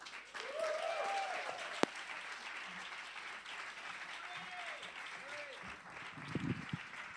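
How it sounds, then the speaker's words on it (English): A live audience at The Bedford gives sustained applause welcoming Tony Moore to the stage, a steady wash of clapping throughout with a few voices heard over it. "put a little extra love and energy into your applause"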